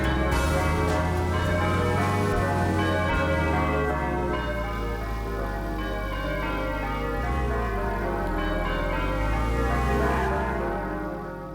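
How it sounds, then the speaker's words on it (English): Church bells ring in Pacific Heights, San Francisco, in the racing game Metropolis Street Racer, loud overlapping tolls with long resonant decays that swell and fade continuously, heard alone. "in San Francisco, the church bells ringing as you drive through Pacific Heights"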